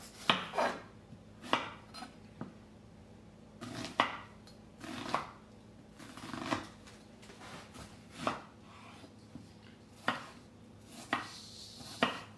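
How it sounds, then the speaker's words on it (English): A knife chops half an onion on a cutting board in a home kitchen, giving about a dozen separate thuddy knocks with short pauses between them. The strokes are close and moderately loud, and no one speaks. "I'm just going to chop my onion up."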